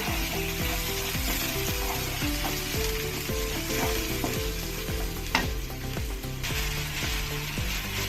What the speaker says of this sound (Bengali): এবার দিয়ে দেবো পেঁয়াজ পেস্ট পেঁয়াজ পেস্টটা দিয়ে একটু কষিয়ে নেবো পেঁয়াজের সঙ্গে